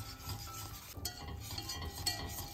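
Japanese curry roux stirred in a pot over low heat, a soft continuous scraping and rubbing close by with faint sizzle underneath, no voices.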